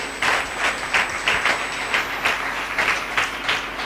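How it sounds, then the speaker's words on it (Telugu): A church congregation clapping in unison in praise at a Christian worship service, about nine to ten strong, regular claps from many hands, steady and fairly close, with no speech over them. "చప్పట్లు కొట్టి దేవుని స్తుతిద్దాం"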